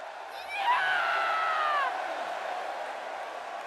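Arena crowd in WWE 2K16 roars in an ovation for Paige at SmackDown, a loud, sustained wash of cheering with a few shrill whistles and whoops rising above it, then easing slightly.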